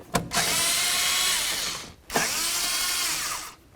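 A power driver spins on the radiator hose clamps of a 2007-2014 Cadillac Escalade in two loud, close, sustained bursts of whirring, each lasting under two seconds with a short pause between.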